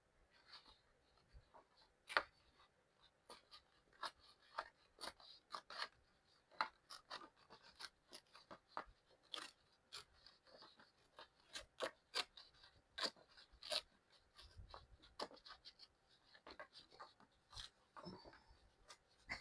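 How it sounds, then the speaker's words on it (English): Paper edges are torn by hand for a junk journal, giving faint, close, irregular rasping rips and crackles in short bursts against a quiet room. "This is really being more difficult to tear than it should be."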